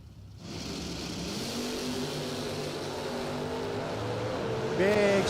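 Drag-race Chevy Nova doorslammers launching off the start line, a loud sustained engine roar building steadily with a sharp rising rev near the end, crowd and announcer noise underneath.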